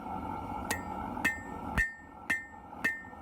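Round face of a hammer striking hot metal on an anvil while forging a leaf, five sharp ringing blows spaced roughly half a second apart, close and clear with metallic ring after each hit.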